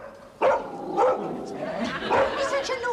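A pet dog barks in a home doorway, a few sharp close woofs and yips spaced across the moment, with voices talking around them.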